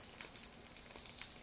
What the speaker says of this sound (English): when she put the salmon is it started to make a sizzling sound